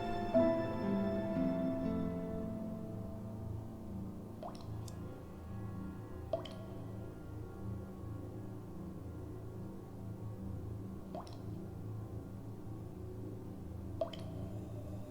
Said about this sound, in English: The dripping echo.